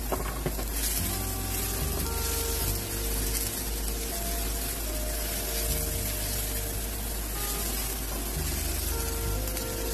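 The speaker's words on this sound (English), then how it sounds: "Just to saute our onion." Onion sautéing in a pan over medium-high heat, a steady bright sizzle that holds evenly throughout with a low background hum and no voices.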